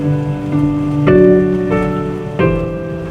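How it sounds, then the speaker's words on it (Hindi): Built-in rain nature soundscape played through the cabin speakers of a 2025 Kia Seltos Signature Edition: steady patter of rain on a surface with soft tonal chimes swelling in three distinct steps, fairly loud and alone. "ये एक आपको रेनी फील देगा जी, जहाँ पे आपकी this is known as sound of nature"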